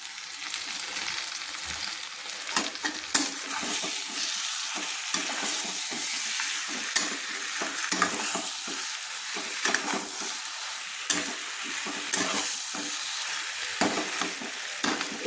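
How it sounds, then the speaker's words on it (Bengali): Chicken pieces stir-frying in a pan, with a continuous crackling sizzle and repeated scraping and clattering stirs throughout, steady and fairly close, no talk. "2 মিনিট মতো চাপা দিয়ে আমি চিকেনগুলো কষিয়ে নিয়েছি।"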